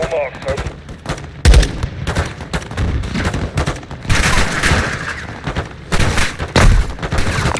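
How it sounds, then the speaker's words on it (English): An aircraft gun run in Call of Duty MW II, with heavy automatic cannon fire and booming impacts. Loud, dense volleys repeat in bursts, with voices heard among the shooting. "Weapons hot for gun run."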